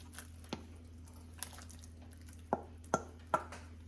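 Pieces of gnocchi dropped one at a time into a pot of chicken gnocchi soup in a home kitchen, giving several short wet plops and drips, the last three louder and spaced about half a second apart.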